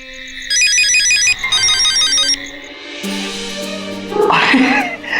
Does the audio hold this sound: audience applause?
no